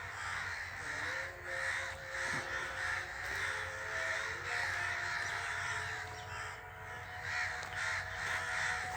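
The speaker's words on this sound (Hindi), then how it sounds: "कौवे देख लें आप" Crows caw repeatedly above an old rest house in rural Punjab, a series of harsh, rhythmic calls from several birds at moderate distance, clear against a quiet outdoor background.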